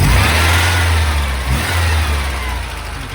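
An MGB sports car engine runs in the open engine bay beside the fan, a loud, close, steady mechanical drone that dips slightly midway. A slight tapping from the engine is part of the sound.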